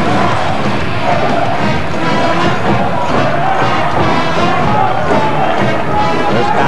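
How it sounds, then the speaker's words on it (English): Loud, dense crowd roar fills a high school basketball gym during a close Bellarmine versus St. Ignatius game, cheering sections yelling steadily throughout with commentators' voices mixed in. "the cheering sections here making some noise"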